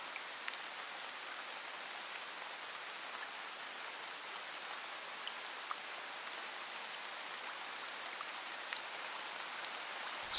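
Steady soft rainfall patters evenly on a surface, a continuous hiss with faint scattered drops, no voices.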